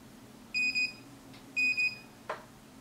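Two pairs of quick, high-pitched electronic beeps from a curling iron, close and clear, separated by a short pause, followed by a brief soft click.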